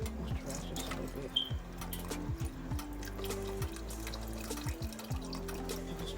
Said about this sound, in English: Just a little bit of beef broth, just to help it.